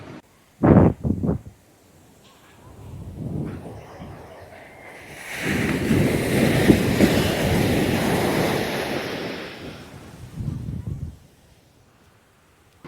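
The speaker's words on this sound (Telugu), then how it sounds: "ఈ సముద్ర పల్లల శబ్దం కూడా చాలా భయంకరంగా ఉంది మీరే వినండి" Rough surf on a Kerala beach rumbles and washes in a long, loud swell that builds, holds and fades, with gusty wind buffeting the microphone and a few sharp thumps near the start.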